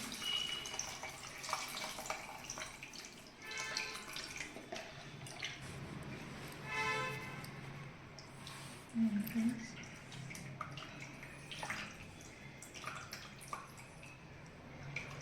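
Tamarind juice is poured into a simmering dried-fish and broad-bean curry, a soft, steady liquid trickle and splash that stays faint and close throughout.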